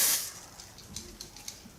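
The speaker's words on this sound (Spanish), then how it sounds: "es aerosol, es en spray." An after-sun lotion aerosol can releases a brief hissing spray, loudest at the start and fading into soft, uneven puffs and rustles, close up and alone.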